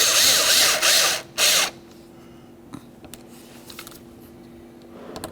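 A hand ratchet tightens the mounting screw of a front interior door handle on a 1994-1999 Honda Accord, giving loud rapid clicking bursts for about two seconds, then near silence with a few faint taps.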